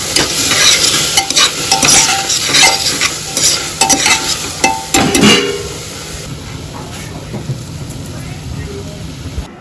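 Crushed coriander being stirred and fried in a pan for tahri, a North Indian spiced rice dish, giving steady sizzling with scraping stirs close by that fade to a quieter simmer partway through.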